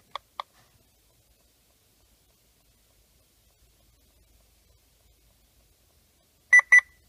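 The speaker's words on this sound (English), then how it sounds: "That double beep is your device telling you you are ready to jam some lasers." Two short electronic beeps from a Laser Shifter Pro HD device at the start, then near silence, then a louder double beep close to the end.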